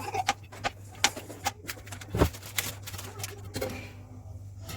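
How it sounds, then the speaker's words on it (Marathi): Cashews and almonds are chopped with a knife for a custard cake, giving a series of quick, light, irregular taps against a board, fairly faint over a low steady hum. "या ठिकाणी मी केकमध्ये घालण्यासाठी काजू आणि बदाम कापून घेत आहे"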